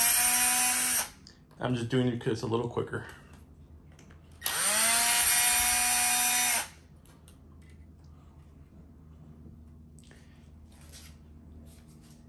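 A power drill backs screws out of an aluminum PetSafe sliding glass pet door in two short, high whirring bursts, up close, with a person talking between them.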